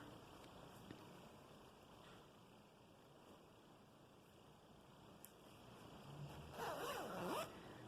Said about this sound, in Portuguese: Agora, nós fechamos o zíper para ver se ficou tudo certinho.